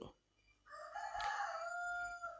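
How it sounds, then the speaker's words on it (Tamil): A rooster crows once, a clear sustained cock-a-doodle-doo that rises after a short quiet start and holds steady nearby, with faint background hum. "இப்போ சேவல் கூவுகிறது என்ற இங்கே ஒரு சத்தம் கேட்டது"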